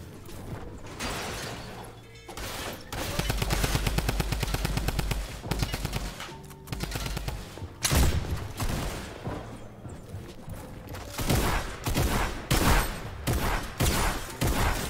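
Shotgun blasts from a video game ring out in loud, rapid succession, gunfire layered densely and continuously across the whole stretch with short lulls between volleys.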